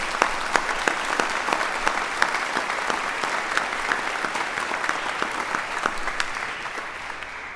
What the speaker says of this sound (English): So I'd ask everyone here to join in a round of applause for the families who supported the graduates all this way.